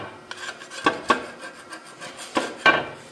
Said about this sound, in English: it does a pretty good job scraping off these old gaskets and any sort of corrosion